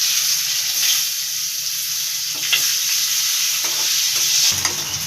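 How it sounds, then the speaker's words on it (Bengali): Onions fry in hot oil for a Bengali small-fish dish, a steady close sizzle broken by intermittent spatula scrapes and stirring knocks against the pan. "পেঁয়াজ ভাজা করে নিয়েছি"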